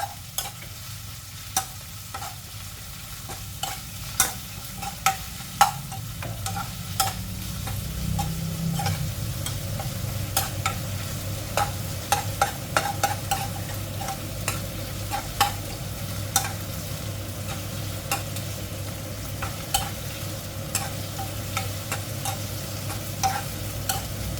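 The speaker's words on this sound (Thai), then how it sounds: "ผัดให้สุกๆค่ะ" Kale stems being stir-fried with oyster sauce in a hot pan, a steady sizzle under sharp, irregular scrapes and taps of the spatula against the pan, continuing without voices.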